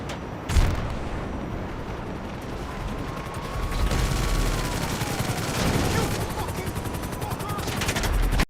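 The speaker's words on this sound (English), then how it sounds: "Aviduck going into battle with the MGs of the jetpack" Rapid machine-gun fire from a jetpack's mounted guns in GTA Online rattles in sustained loud bursts over a droning engine and game noise, with a sharp blast near the start.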